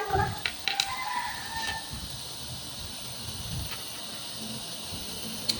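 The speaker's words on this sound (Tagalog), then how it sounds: "Ang ingay ng mga manok" Chickens clucking and squawking at a noisy distance, with a few brief calls near the start over a steady hiss of background noise.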